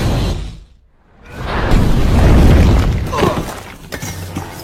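An explosion lands near a deadly gas grenade in a film, arriving as a rushing whoosh after a brief silence, then a heavy, rumbling blast with shattering debris that slowly fades.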